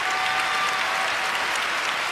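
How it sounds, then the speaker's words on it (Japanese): Audience at a figure skating national championship applauding after a free skate, a dense steady wash of clapping from a large arena crowd. "国分さんも実況席から拍手を送っていました"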